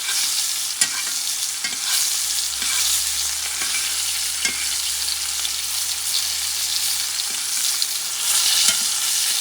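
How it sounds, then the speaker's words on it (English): Butter sizzles and spits in a hot pan with a ribeye steak frying, a bright, steady hiss with small crackles and occasional scraping of a utensil, close up. "that butter I'm going to cook maybe for a minute and a half"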